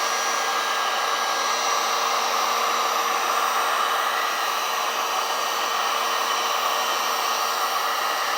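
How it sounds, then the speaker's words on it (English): A heat gun blows hot air steadily onto a gold foil logo on a glass beer mug, a close, even, unbroken whooshing drone with a constant motor whine. "last process is heating up the logo very hot again"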